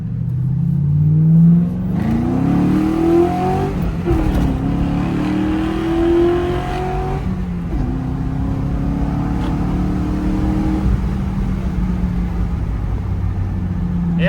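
A 5-speed Grand Marquis accelerating hard, the engine climbing in loud revs, dropping briefly at gear changes, then pulling again as a steady rising drone with road rumble underneath.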